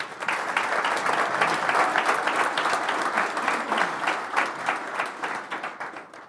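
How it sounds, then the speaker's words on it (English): An audience at a forum talk claps in a moderate, fairly even round of applause. Individual claps grow more distinct and pulse rhythmically as it thins toward the end. "let's give it a round of applause"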